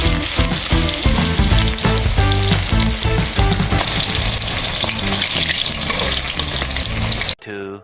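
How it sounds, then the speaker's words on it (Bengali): Chicken pieces dropped into hot oil fry with a loud, dense sizzle and popping that fills the whole stretch close up, then cuts off abruptly near the end. "তো এখন আমি চুলাটা জ্বালিয়ে নিলাম তেল গরম করার জন্য, আর এখানে তেলটা গরম হয়ে গেছে। এখন আমি মাংসটা দিয়ে দিলাম।"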